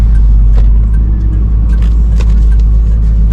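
A 2002 Pontiac Trans Am WS6 with 39,000 miles driving, heard from inside as a loud, steady low engine rumble with road noise and light interior rattles.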